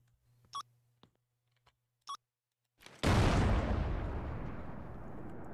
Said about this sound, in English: Obviously, we're able to breach it with a bomb.